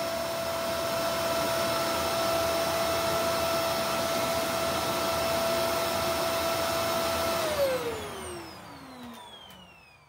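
A Shark NV750W vacuum cleaner runs at maximum suction on hard floor with no brush roll, giving a steady, loud whine that winds down near the end as the motor stops.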